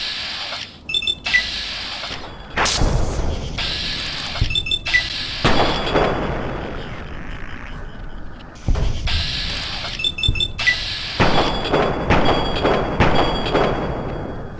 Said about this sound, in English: That's some good shooting right there.